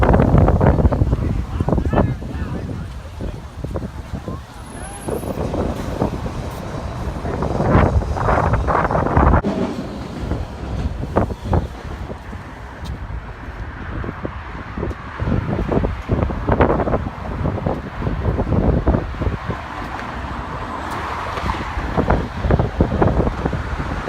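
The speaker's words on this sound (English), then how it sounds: "Super windy out here." Strong wind buffets the microphone with a constant low roar and gusts, while a person talks outdoors.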